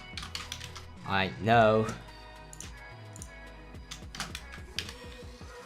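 Typing on a computer keyboard, light irregular clicks and key taps scattered across a few seconds, with a short spoken phrase in the middle.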